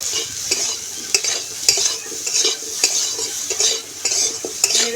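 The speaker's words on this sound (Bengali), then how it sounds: "একটু নেড়ে চেড়ে দেবো।" Stems and potatoes frying in a pan with turmeric and salt for a village-style rohu fish curry, stirred with a utensil in repeated scraping strokes over a steady sizzle, close and with no talk.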